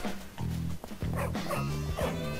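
Dogs barking and yipping in the video game Bully Scholarship Edition, a run of loud, close, repeated barks filling the short stretch without pause.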